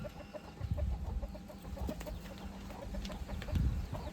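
Hens and a rooster clucking in a backyard coop as they are let out, a steady run of quick, close clucks with rustling and scuffling underneath throughout.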